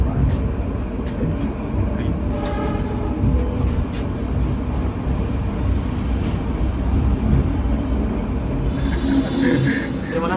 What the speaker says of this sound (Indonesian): Kita tiba di stasiun Kertosono, bertemu dengan kereta api Malioboro Express ya teman-teman